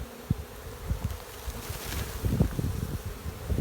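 Honeybees buzz around a pair of hives, a steady close drone with wingbeats swelling and fading as individual bees fly past, heard alone without voices.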